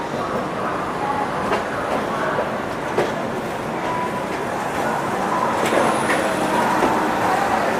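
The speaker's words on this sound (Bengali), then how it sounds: "ট্রেনটা চলে আসলো প্রয়াগরাজ জংশন" A passenger train pulls into Prayagraj Junction with a continuous rumble, clattering wheels and faint metallic squeals. It is loud and steady throughout, with no speech.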